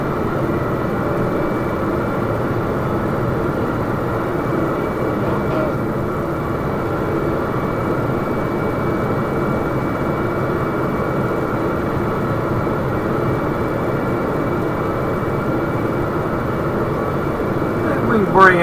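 A Boeing 777-200ER makes a flyby at Perth in a flight simulator game, heard as a steady, unbroken jet engine drone at constant loudness throughout, swelling slightly at the very end.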